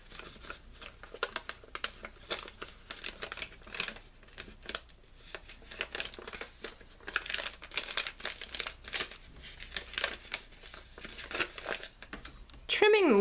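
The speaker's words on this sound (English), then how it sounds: "slitting it in the middle, and then folding the washi tape over." Paper-crafting sounds from washi tape being slit on a cutting mat and folded over mini journal pages: steady crinkling, scratchy rustles and small snips, close and fairly quiet, with a brief louder handling sound at the end.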